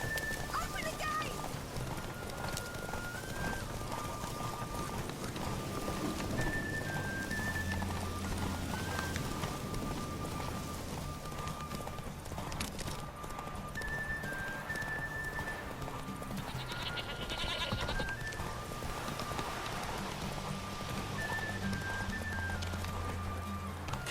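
Geralt's horse Roach galloping in The Witcher 3: rhythmic hoofbeats drum steadily throughout. Occasional whinnies and game music sound alongside, and voices speak over the hooves.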